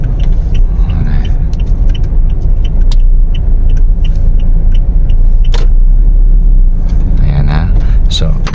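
An automatic car drives in second gear over road humps, giving a loud, constant engine and road rumble with occasional clinks and rattles inside the cabin while a person talks over it.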